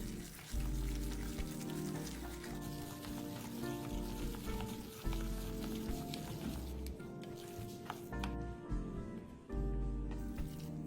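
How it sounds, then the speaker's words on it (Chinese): Minced pork mixed with egg and plain flour is stirred fast with a pair of chopsticks, giving a steady wet, squishy clatter that runs continuously at close range without pause. "将所有食材用双筷子一起拌匀，接着再顺着时间快速搅拌"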